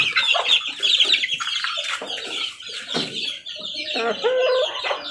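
Chickens and young chicks, a white gray and McLean white cross with asil, cluck and chirp busily up close in a continuous, overlapping chatter, with a person's voice faintly mixed in.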